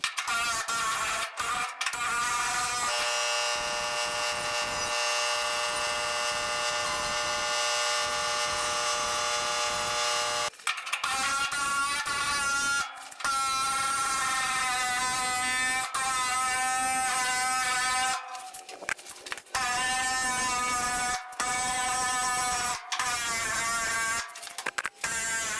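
A small pinch machine crimps a steel panel on a 1964 VW double-door panel van, its motor whining loudly and steadily in long buzzing passes with brief stops and restarts.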